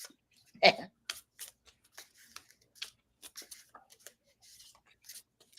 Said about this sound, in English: we're shuffling the cards